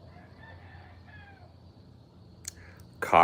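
A person imitates a rooster crowing with a voiced cock-a-doodle-doo, sounding soft and close over low background rumble, with a louder burst of noise at the end.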